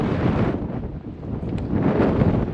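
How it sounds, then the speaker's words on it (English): Strong, hot wind roars straight into the microphone outdoors in a fire-evacuation area, a close, loud, continuous buffeting rumble that rises and falls slightly with no talking. "Sorry about the wind."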